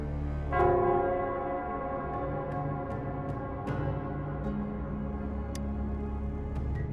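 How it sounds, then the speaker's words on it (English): The Nell Square bell rings in the video game Wuthering Waves with one deep, resonant strike that hums and slowly fades over several seconds. A few faint ticks can be heard in the background. "it's the Nell Squares bell."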